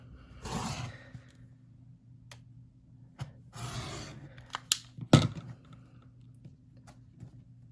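Cutting of fabric while trimming a quarter square triangle quilt block: a few soft scraping swishes of the blade, a couple of sharp clicks and handling noises, all close and quiet over a faint hum.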